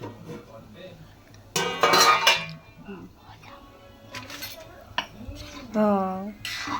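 A metal plate used as a lid is lifted off a pot of undhiyu, giving a few sharp metallic clanks and scrapes in short bursts, with a voice speaking between them.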